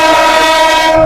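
A passenger train running between Spanish Town and Old Harbour, Jamaica, gives a loud, sustained tonal drone with a steady rumble beneath it.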